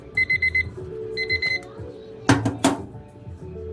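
A kitchen timer alarm beeps in short rapid bursts, two quick groups of electronic beeps close by, followed by a couple of sharp clicks.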